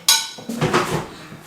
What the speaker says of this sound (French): Comme ça, le lave-vaisselle est vidé.